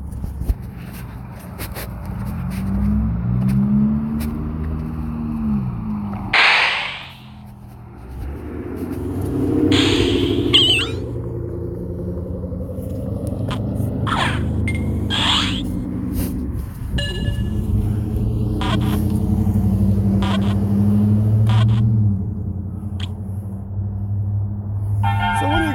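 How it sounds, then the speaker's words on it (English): Cars pass back and forth on a road, engine rumble rising and fading with a couple of swelling pass-bys and faint honks, while a person talks nearby. "I'll tell you, I hear more cars back and forth."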